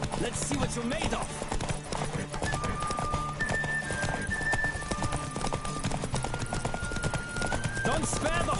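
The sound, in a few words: horses galloping and neighing during a race in the video game Witcher 3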